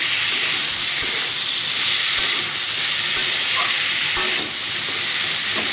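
Hog plum being stirred with jaggery in a pan for a sweet-sour pickle, a steady close sizzling, frying hiss with occasional scraping spoon knocks, heard alone.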